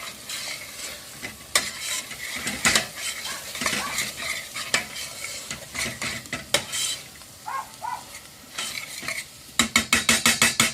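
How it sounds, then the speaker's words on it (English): Spices including turmeric are stirred in a curry pot, with a low sizzle beneath repeated sharp clinks and scrapes of a utensil against the pot, ending in a quick run of rapid taps. "Give that a stir"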